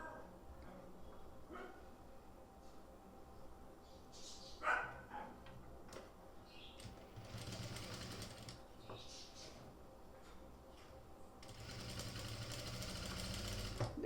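Sewing machine stitching the folded-under edge of a kurti sleeve, short bursts of running needle clatter with pauses in between, close by, with a dog barking once or twice in the background.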